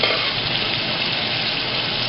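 Chicken leg pieces fry in a pan with a loud, dense, steady crackle of hot oil, close and with no one talking.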